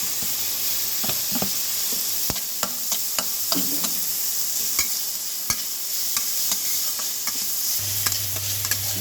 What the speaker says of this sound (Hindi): बटर के साथ इसको जो काट के प्याज शिमला मिर्च रखा था, बंद गोभी, सबको मुलायम कर दिया